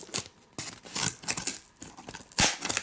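Heavy-duty Schrade and Coleman multi-purpose pliers scissors cut through cardboard in a string of close, crisp crunching snips and tearing bursts, with no one speaking.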